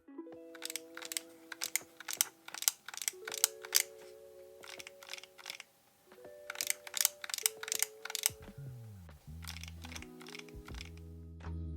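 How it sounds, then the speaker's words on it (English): Quiet, rapid plastic button clicks come in bursts as a handheld console's buttons, fitted with silencing mods, are brushed and pressed, with faint electronic tones sounding underneath. "Here's a side-by-side where I brush across the buttons with and without the mod"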